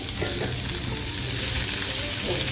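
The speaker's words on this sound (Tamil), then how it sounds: "வெங்காயம் நல்லா வதங்கட்டும்." Onion frying in a pan with green chillies and curry leaves, cooked for a snakegourd poriyal, giving a steady close sizzle that runs unbroken and alone from start to finish.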